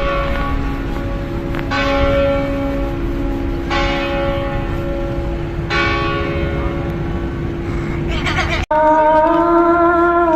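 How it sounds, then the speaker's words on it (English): Church bells ring in Sarajevo, several loud resonant strikes spaced about two seconds apart with long ringing decays, followed by a brighter set of tones after a brief cut, over faint crowd murmur. "you can hear both Christian church bells and Muslim prayers in the same city alongside each other"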